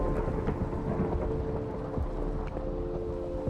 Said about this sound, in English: That thunder is really loud too.